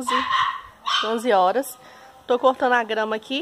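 A dog barks and yips in short bursts while a person talks nearby, the barks breaking in between the spoken phrases.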